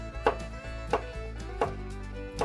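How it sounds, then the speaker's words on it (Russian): A knife chops cucumbers on a cutting board in a home kitchen, with sharp, evenly spaced cuts about every two thirds of a second, close and clear over a low background hum. "осталось порезать огурчики"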